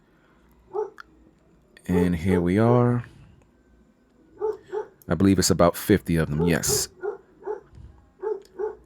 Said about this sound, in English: Apologize for the barking, family. The dog is always bothered about something.